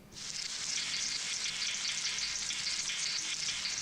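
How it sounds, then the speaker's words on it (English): Boiling oil sizzling as a Foley sample, a continuous bright crackling hiss that starts abruptly and holds steady and close for several seconds, heard alone. "I already co-opted this boiling oil sound for use in a video recently"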